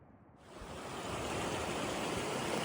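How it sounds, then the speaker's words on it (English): Kern River rushing past the trail crossing on the Colby Pass Trail in Sequoia and Kings Canyon, a steady broadband roar of flowing water that swells in the first half second and then holds constant and close, with no voices. "This is the Kern River crossing on the Colby Pass Trail"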